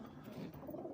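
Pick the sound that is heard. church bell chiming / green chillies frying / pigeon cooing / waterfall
pigeon cooing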